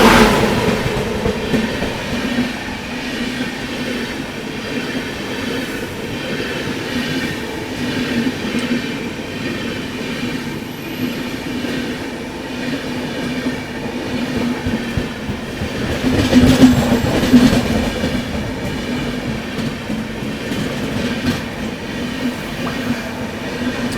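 A Tirupati–Chikkamagaluru express train rolls steadily along the rails near Jolarpettai Junction, heading onto the Bengaluru line. It gives a continuous loud rumble with wheel noise that swells briefly toward the end.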